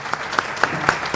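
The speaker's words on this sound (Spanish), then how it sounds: "Con ese aplauso estamos agradeciendo la presentación de Eric Leal Matamala" An audience applauding after a university talk, steady clapping from a small crowd with a few sharper claps standing out.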